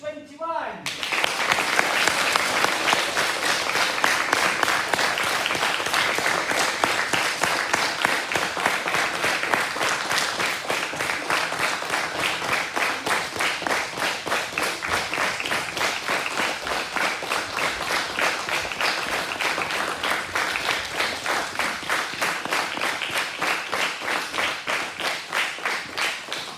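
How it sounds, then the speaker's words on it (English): A school audience at a Primary 7 leavers' ceremony breaks into sustained, dense applause that swells quickly and holds steady for well over twenty seconds, many hands clapping close and loud. "we're going to clap when it's good"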